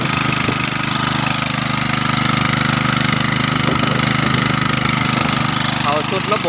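A small water-pump engine runs steadily on bamboo charcoal instead of fuel, with a droning hum throughout, close by and fairly loud, with faint clanks and background noise over it.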